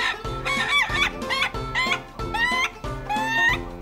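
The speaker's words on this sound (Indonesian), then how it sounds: "menurut para penghobi ayam ketawa, jenis inilah yang paling prestisius alias bergengsi" An ayam ketawa, the Indonesian laughing chicken, gives a repeated rhythmic crow of quick cackling bursts, about five close, loud phrases with no talk over them.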